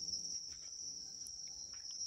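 Crickets at an Indonesian cricket farm chirp in a steady, shrill, continuous trill that holds unbroken from start to finish, with a few faint extra chirps and no voices.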